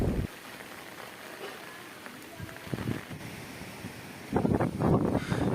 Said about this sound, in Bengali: জল প্রচণ্ড হারে বাড়ছে ঝড়ও ধীরে ধীরে বাড়ছে